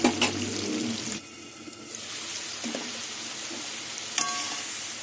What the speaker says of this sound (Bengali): আলুগুলো আর একটু ভাজা হবে।